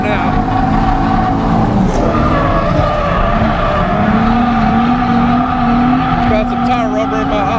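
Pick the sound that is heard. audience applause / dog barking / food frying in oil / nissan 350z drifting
nissan 350z drifting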